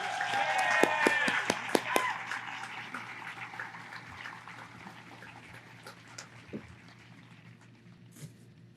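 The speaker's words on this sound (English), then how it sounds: "Let's give them a round of applause." A round of applause from the audience at a high school commencement. The clapping is strongest at the start, with a few cheers and whistles, then gradually fades into quieter scattered claps and hall ambience.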